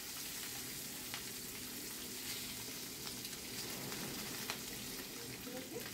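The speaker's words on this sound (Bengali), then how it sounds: "মাছগুলোর একটা পিঠ ভাজা হয়ে গেছে। এবার আমি এগুলোকে উল্টে নিচ্ছি।" Catla fish steaks frying in hot oil in a home kitchen, a steady, soft crackling sizzle with occasional small pops, heard fairly quietly and without talk.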